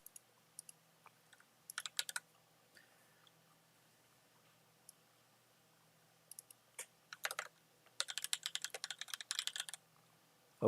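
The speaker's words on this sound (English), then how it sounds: "just in case y'all wondering what all that good stuff is that he's typing right there" Computer keyboard typing, fast clattering keystrokes in scattered bursts with dense runs toward the end, close and fairly quiet, no talking.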